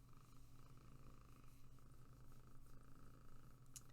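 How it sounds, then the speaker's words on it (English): A cat purrs steadily and softly right up against the microphone, a continuous low rumbling drone with no talking over it. "hope you can hear her purring because she's up close to the mic right now"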